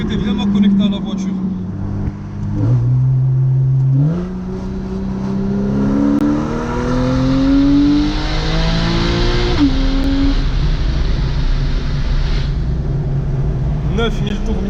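A Porsche 911 991 Carrera S with a naturally aspirated engine revs loudly toward 9000 rpm, its pitch climbing in long rising sweeps, with a brief drop and then another climb. A voice can be heard faintly.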